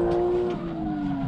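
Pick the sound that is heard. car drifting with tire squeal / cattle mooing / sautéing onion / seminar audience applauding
car drifting with tire squeal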